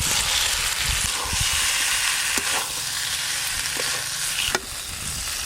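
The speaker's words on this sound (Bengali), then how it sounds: "মশলা তো কষা হয়ে গেল, ভেজে রাখা ফুলকপি আর ডিম দেব।" Fried cauliflower and duck eggs sizzle in a spice masala in a hot pan, a close, steady crackling fry with a few sharper pops and stirring scrapes, and no voices over it.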